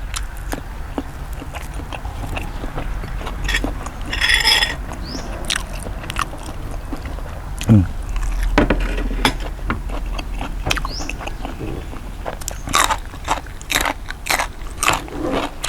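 Someone bites and chews Thai pork sausage (moo yor) close to the mic, with repeated crunchy, squelchy mouth sounds and scattered crackles over several seconds.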